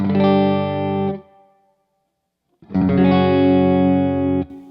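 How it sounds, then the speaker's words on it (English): Two thick, octave-doubled guitar chords from a Digitech Hammer On pitch-shift pedal ring out with a synthetic edge, separated by about a second and a half of silence. "That's my original octave sound there."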